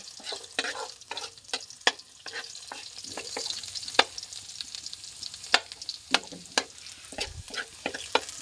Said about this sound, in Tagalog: Lagyan na natin yung ating bawang. Ituhin lang natin siya na hanggang sa mag-golden brown.